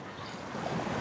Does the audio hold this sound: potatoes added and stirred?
no